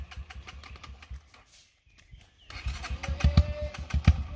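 A motorcycle on a muddy trail in the rain revs at full throttle, rising after a brief lull into a loud, rough engine roar with bursts of throttle.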